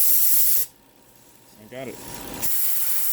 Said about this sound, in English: I was adding compressed air to it to see if it'll change.